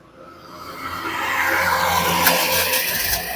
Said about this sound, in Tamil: வண்டி ஸ்டார்ட் ஆகிடுச்சு